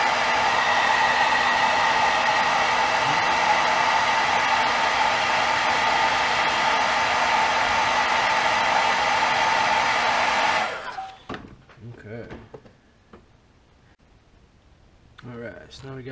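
A heat gun blows hot air over fresh airbrushed paint on a fishing crankbait, a loud, steady roaring whoosh up close that cuts off abruptly, followed by a few faint clicks and handling sounds.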